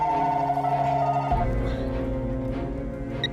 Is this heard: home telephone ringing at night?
yes